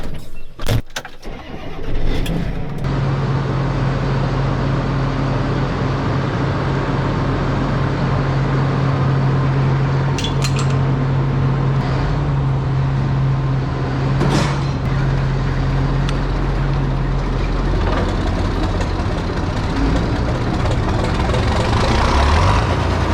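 A John Deere 4010 tractor engine being pole started with chains: a few sharp knocks and a brief struggle, then a steady, loud, continuous engine running and idling close by with no talk over it.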